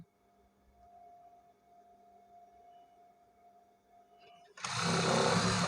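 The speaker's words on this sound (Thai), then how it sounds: "นี่เราก็ไปรอบคอเย็บไปรอบคอเลยนะคะพับเข้ามา" A sewing machine stitches around a shirt collar, starting abruptly near the end as a loud, close, rapid whirring run after several seconds of quiet room hum.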